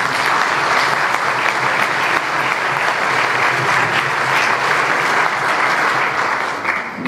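Sustained audience applause at a political party's federal council speech, dense steady clapping from a large crowd filling the whole stretch without pause, loud and even throughout.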